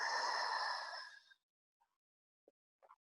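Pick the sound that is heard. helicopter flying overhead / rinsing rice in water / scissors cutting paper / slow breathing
slow breathing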